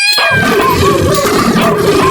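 An anime character's voice imitates a cat with drawn-out meows, sounding loud and close over a busy background of sound.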